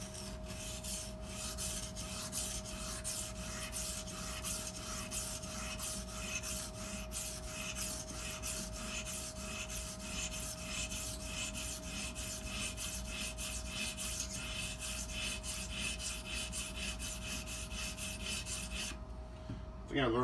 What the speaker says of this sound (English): The thing I learned with this Edge Pro sharpening system is sometimes I get caught up in sharpening and don't slow down.